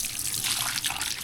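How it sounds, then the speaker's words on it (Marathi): Hot water running from a tap, a steady close rush of flowing and splashing water that carries on throughout the short stretch with no talk. "हे बघ गरम बघ काय पाणी."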